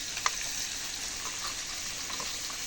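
Onion fries in hot oil with a steady, close sizzling hiss and a few faint crackles throughout.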